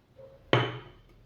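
A spoonful of granulated sugar drops into a bowl, landing as one sharp clink that fades quickly.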